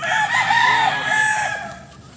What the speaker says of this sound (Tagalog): Ito ang mga chicken.